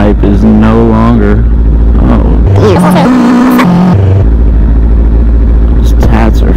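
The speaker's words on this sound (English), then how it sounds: "My exhaust pipe is no longer." A motorcycle with its exhaust pipe missing revs in loud, raw bursts close by, the engine note rising and falling under a rider's talking.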